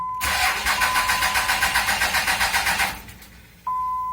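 A 5.9 Cummins diesel engine's starter cranks in a fast, even rhythmic chug for nearly three seconds without catching, then winds down, followed by a steady electronic tone.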